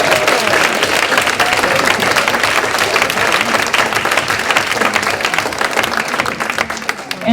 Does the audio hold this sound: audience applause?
yes